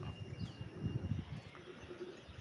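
Desi pigeons, some black-winged, coo in low, soft repeated murmurs close by, a steady rolling burble with faint chirps above it.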